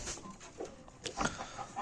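Chickens, including Adler and Australorp breeds, cluck softly in a poultry coop in short, scattered calls close by, with no talking.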